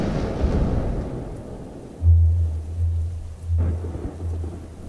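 Hurricane thunderstorm with rain: steady hissing rainfall under deep rolling thunder rumbles that swell and fade, with a sharp crack near the end.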